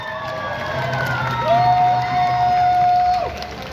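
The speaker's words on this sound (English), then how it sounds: "Let's get a round of applause" A crowd at a rally applauds and cheers after a song performance, a mix of clapping and whoops with a sustained whistle or tone over the middle, moderately loud throughout.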